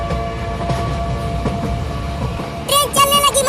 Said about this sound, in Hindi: अब ट्रेन चलेगी।